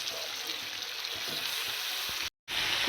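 Paste-marinated meat fries in a pan with capsicum, tomato and turmeric, giving a steady, even sizzling hiss that cuts out for a split second near the end.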